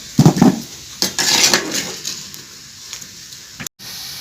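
Boiled turmeric roots lifted out of a metal cooking pot, with clattering metal clanks and scraping of utensil against pot, close and loud, followed by wet shuffling, no talking.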